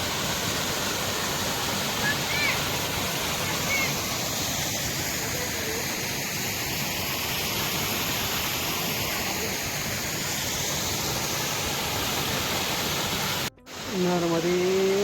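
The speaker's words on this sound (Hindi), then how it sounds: "ये है दूध धारा का वाटरफॉल।" Dudh Dhara waterfall on the Narmada river roars as a steady, broad rush of falling water, loud and continuous, with a brief cut near the end.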